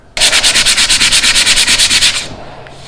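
Wood being sanded by hand with 120 grit sandpaper, a loud, steady run of rhythmic back-and-forth strokes, about a dozen quick passes, close up and alone, ending abruptly with a quiet tail.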